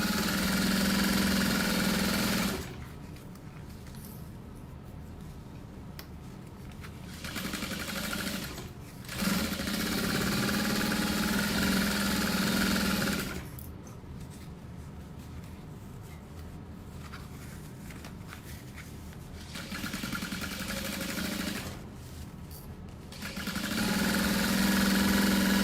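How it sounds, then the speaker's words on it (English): A sewing machine back stitches over a handbag seam in several sustained runs, each a close steady motor whir, broken by brief pauses and shifts in speed. "I did add a little back stitch over my butterfly seam."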